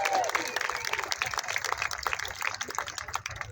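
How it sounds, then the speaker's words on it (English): A crowd claps at an outdoor voting rights march in Arizona. The clapping is moderately loud but somewhat thin and uneven, with scattered sharp claps and some background murmur mixed in. "Give yourself a round of applause."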